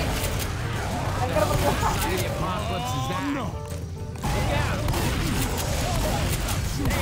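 Bursts of gunfire mixed with crashes and impacts in the zombie shooter Left 4 Dead 2, a loud, chaotic barrage that drops out briefly and then returns, with excited voices talking and yelling over it.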